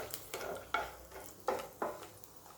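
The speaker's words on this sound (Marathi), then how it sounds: "बदाम आणि थोडेसे मनुके घेतलेले आहेत आता हे छान असे तळून घ्यायचे आहे गुलाबी रंगावर" Almonds and a few raisins turning in hot ghee in a pan, with about five separate stirring scrapes and sizzles spaced through the clip, close and moderately quiet, no talking.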